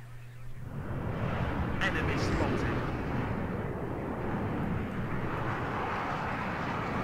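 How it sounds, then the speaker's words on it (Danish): A military aircraft roaring past in the wargame WARNO, a broad engine rumble rising after a quiet start and holding steady, under a voice talking. "Afsted med vores fly."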